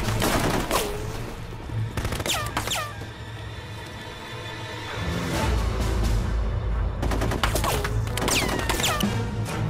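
Bursts of automatic gunfire in the video game Full Spectrum Warrior, loud rattling volleys separated by brief lulls, with rumbling battle noise filling the background.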